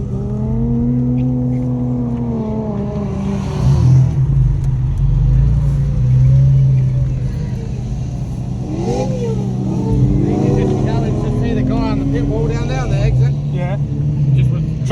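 A drift car revs and roars around the Mallala track, its engine climbing and falling through repeated acceleration swells, with someone talking over it.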